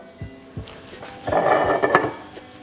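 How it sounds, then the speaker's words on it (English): A frying pan set down on a stovetop burner at high heat while a smash burger is being made, giving a few close clattery metal knocks followed by a brief louder scraping rattle of cookware. "So put the pan, high temperature"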